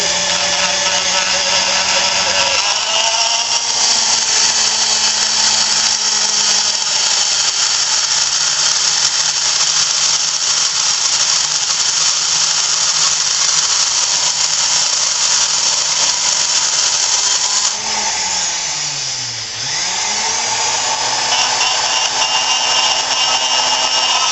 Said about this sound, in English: Cut slow and easy, let the bit do all the work.